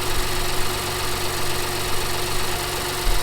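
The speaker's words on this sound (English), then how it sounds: "So now the engine is running." A car engine idles steadily with a constant low hum and even vibration, running just after starting with a supercapacitor jump starter mounted in the engine bay; no talking.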